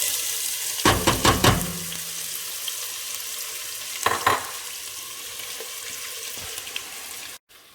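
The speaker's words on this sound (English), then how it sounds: "All right, time to throw in the onions." Onions tossed into a hot pan set off sizzling frying bursts, loudest in two short clusters, then settle into a steady crackle for a Bolognese sauce, with no voices.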